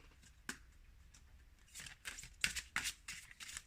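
Tarot cards being shuffled by hand: soft, close riffling bursts in an irregular rhythm, growing denser and slightly louder toward the end, heard alone without talking.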